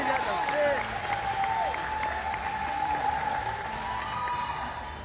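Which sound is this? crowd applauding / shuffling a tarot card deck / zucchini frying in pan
crowd applauding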